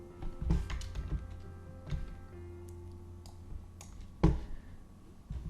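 Soft computer mouse clicks on a quiet desk, a few isolated taps spaced irregularly with one sharper click near the end, faint and close.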